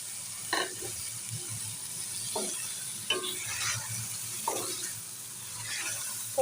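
Chicken with tomatoes, spices and capsicum frying in a pan, a soft continuous sizzle broken by several short scraping stirs at irregular intervals, close and moderately quiet.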